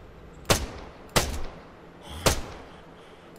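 Three sharp, loud gunshots crack out at uneven intervals over a low background rumble in the video game Arma 3.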